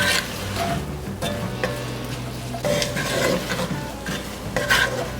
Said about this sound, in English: now let's add that onion, celery, and garlic that we finely diced down